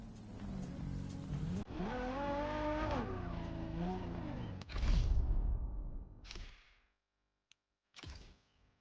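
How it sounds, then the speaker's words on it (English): Ferrari GTO engine in the racing game Motorfest, revving up through rising and falling gear pitches, then a sharp louder burst and shorter fading bursts separated by silence. "The car you're about to drive in this opening event is none other than the first Ferrari in the supercar bloodline, the Ferrari GTO."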